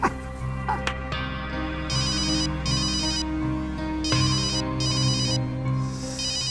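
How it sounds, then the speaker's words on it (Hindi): A mobile ringtone rings in repeated electronic bursts over a steady musical background, with a short pause between rings. "ले लीजिए, आपका फोन है,"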